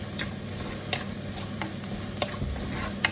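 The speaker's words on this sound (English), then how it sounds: "Saute again." Softened onions with turmeric powder sauté in a hot pot over a medium flame, a steady close sizzle broken by a few sharp clicks and scrapes as a spoon stirs them.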